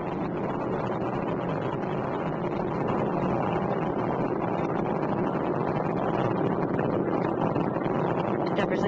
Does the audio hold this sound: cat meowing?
no